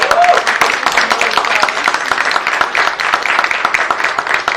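Audience at a student theatre production of the play Delhi 6 claps for the assistant director called on stage, a dense, steady patter of many hands lasting the whole stretch, with a brief voice near the start.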